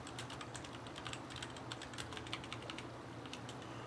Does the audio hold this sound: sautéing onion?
no